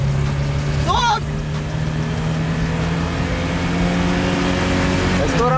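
A Chevette car engine strains uphill with a steady, droning hum that holds at one pitch under load, close and loud, while a voice cuts in briefly near the start and again at the end.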